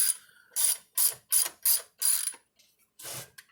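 A ratchet wrench loosens bolts on a load bar, giving six or seven close, loud bursts of rapid clicking separated by short pauses, with no talk.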